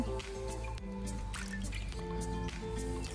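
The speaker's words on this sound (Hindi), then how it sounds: "इसको भी हम उसी तरीके से पानी डालेंगे" Water is poured into a beaker holding a chemical solution, giving close, quiet splashing and dripping with small squishy liquid sounds and a few sharper drips.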